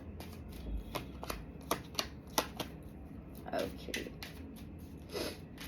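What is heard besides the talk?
shuffling tarot cards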